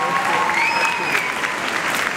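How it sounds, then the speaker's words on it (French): Loud sustained applause from a theatre audience for a jury member walking onto the stage at a French selection event, a dense wash of clapping with cheering and a few whistles over it. "On l'applaudit très très fort"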